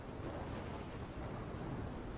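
A tornado storm sweeps over Arcadia Bay in Life is Strange, a dense, steady roar of wind and heavy rain with a deep, rumbling low end.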